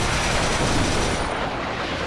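Dense, continuous roar of gunfire and explosions in the video game Resistance 3, loud and unbroken across the whole moment.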